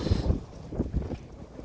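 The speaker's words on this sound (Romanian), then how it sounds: "deci bate vântul" Wind buffets the microphone outdoors in a yard with chickens, in low rumbling gusts, loud and close, rising and falling over a couple of seconds with no voices.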